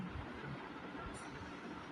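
A train runs in the Car Parking Multiplayer mobile game, giving a steady, dense rumble of wheels and rail noise without a break.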